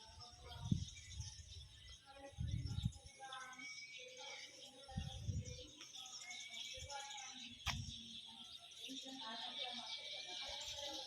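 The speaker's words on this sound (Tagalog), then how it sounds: "At madidinig mo ang mga huni ng mga ibon." Birds chirp and call near rice paddies below a mountain, a busy mix of high twittering running throughout, with some lower, louder bursts of sound rising and falling underneath.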